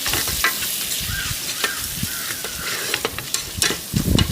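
Green chili and ginger-garlic paste fry in a pan for a Kozhikode-style dum biryani, a steady close sizzle with scattered sharp crackles and pops and the scrape of a spoon stirring, with no voices.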